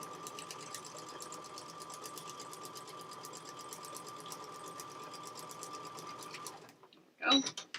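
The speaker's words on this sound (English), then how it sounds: "Sewing on the line." Sewing machine running steadily as it stitches along a marked line on fabric, a continuous close whir that stops near the end, followed by a brief handling clatter.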